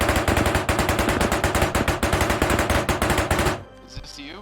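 Rapid automatic gunfire from the video game Arma Reforger, a loud sustained burst of closely spaced shots lasting several seconds before stopping abruptly, leaving quieter game sounds.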